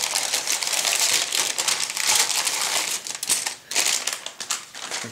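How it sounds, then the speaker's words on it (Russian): A plastic bag holding a 1:35 scale Magirus S330 German truck model kit is opened up close, giving a steady, busy crinkling and rustling of plastic that goes on for about five seconds with short pauses near the end. "Открываем пакет."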